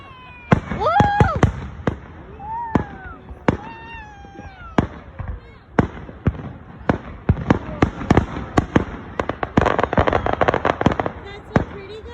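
Outdoor fireworks burst in a rapid series of sharp bangs and crackles, some near and loud, with one shell exploding early, while people whoop and exclaim between the blasts.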